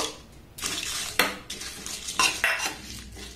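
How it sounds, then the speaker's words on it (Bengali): A spoon scrapes and clinks in a pan as fried spices and dried red chillies are stirred together, with several sharp metallic knocks over a few seconds and no talk. "একসাথে এটাকে আমি একটু নাড়াচাড়া করে নেব।"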